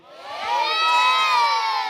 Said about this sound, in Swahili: nisikie kelele za shangwe kusema amen